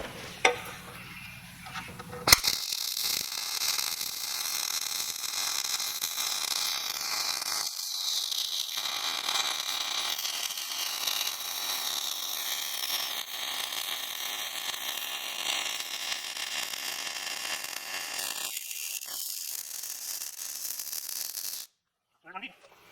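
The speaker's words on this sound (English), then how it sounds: "Now we'll go ahead and we'll weld this out." Welding an uphand pass on a steel patch on a trailer produces a steady crackling, frying hiss that runs almost unbroken for about twenty seconds at an even level, then cuts off abruptly.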